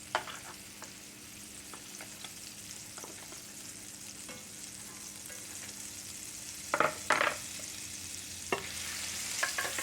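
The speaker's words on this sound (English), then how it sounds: "I'm gonna do about a half a stick of butter. It won't take long for this to melt." About half a stick of butter melts in a pan with a soft, steady sizzle, a few light clicks and a brief louder crackle near the end, and no voices.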